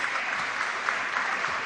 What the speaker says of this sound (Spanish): Un aplauso, por favor, para ella.